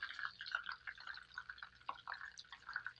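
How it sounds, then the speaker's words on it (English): Seasoned chicken pieces coated in egg drip into a bowl of cornflakes, giving a run of small, soft, wet drips and splatters that stay close and fairly quiet throughout, with no talking. "Let that drip off into my cornflakes"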